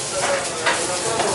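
Cèpe mushrooms fry in a hot pan, a brief, close, steady sizzle with faint stirring.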